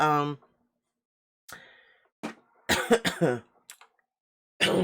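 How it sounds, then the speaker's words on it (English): A few short, harsh coughs and throat-clearing bursts break up stretches of silence, close to the microphone. "Sorry, I was coughing."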